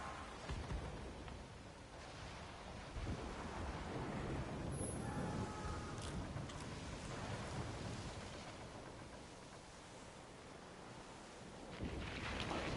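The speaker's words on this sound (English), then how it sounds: "This storm, dude." A game thunderstorm rages at sea in Skull and Bones, with steady heavy rain and wind, low thunder rumbles and a sharp crack near the middle, continuous and loud with no talking.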